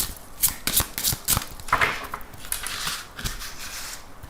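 Tarot cards shuffled by hand before a reading, a run of quick papery riffles and soft slaps at close range, with no voice.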